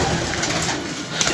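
Pigeon cooing from a kept pair of loft pigeons, soft and steady under a constant airy background hiss, with no voices.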